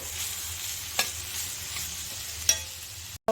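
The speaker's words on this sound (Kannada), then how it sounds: "ಈರುಳ್ಳಿನೂ ಕ್ಯಾಪ್ಸಿಕಮ್ಮು ಫ್ರೈ ಆದರೆ ಸಾಕು" Onion and capsicum stuffing for a veg roll frying in a pan: a steady, fairly quiet sizzle with two sharp spoon clicks as it is stirred, then a sudden cut to silence near the end.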